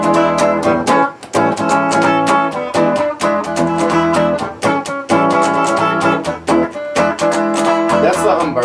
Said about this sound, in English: So, Chameleon sounds like this.